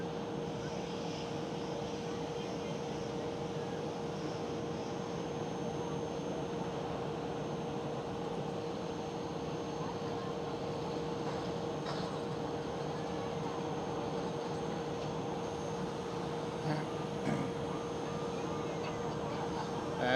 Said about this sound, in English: EasyJet is going for the takeoff